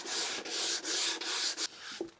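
Rough rhythmic hand sanding across the surface of a wooden butt-jointed box, loud and close, with repeated strokes separated by short pauses and no voices.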